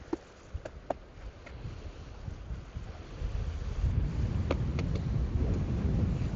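Chilly 25-38 mph wind blowing on a Lake Superior beach gives a steady rumbling roar of gusts buffeting the microphone, with a few sharp clicks early on and a stronger, denser wash of wind in the second half.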